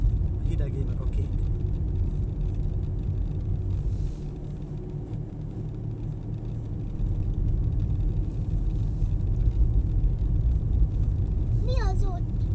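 Cars driving past on a road, heard as a steady low rumble of traffic that swells and fades, with a voice and brief talk near the start and end.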